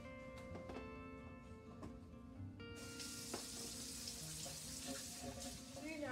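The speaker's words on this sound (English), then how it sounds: "Always make sure to wash your hands before baking." Tap water runs steadily into a sink during handwashing before baking, a soft continuous stream with occasional clinks and splashes, while music plays underneath.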